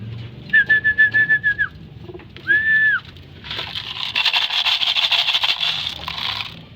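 Racing pigeons returning from a training flight, with a short run of clear whistles and a longer whistled note, then a dense burst of fluttering wingbeats and scraping as birds land close by.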